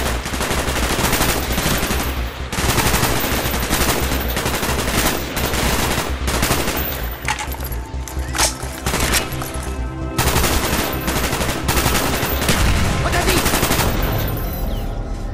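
Heavy automatic gunfire from the Call of Duty Black Ops video game, loud rapid bursts of shots hammering almost continuously in rhythmic volleys with only brief gaps, layered over game music and effects.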